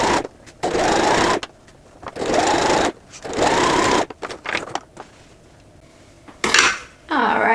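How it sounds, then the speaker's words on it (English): A sewing machine top stitches close to the edge of a tote bag, running in loud, close bursts of rapid mechanical whirring separated by short pauses, with small handling clatters between runs. "we're just going to top stitch really, really close to the edge again"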